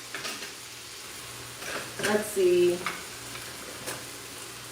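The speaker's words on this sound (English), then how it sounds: "So it's hot. It's sizzling." Ground turkey sizzles steadily in a hot pan while a person speaks briefly, with a few utensil scrapes and clicks.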